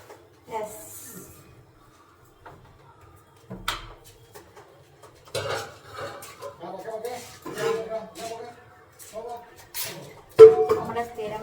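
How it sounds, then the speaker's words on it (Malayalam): Metal pots clank and scrape nearby while cooked rice is drained, scattered knocks and clatters with pauses between them, alongside occasional soft voices. "അപ്പം ഞാൻ ചോറൊന്ന് വാർത്തണമെന്ന് വിചാരിച്ചു."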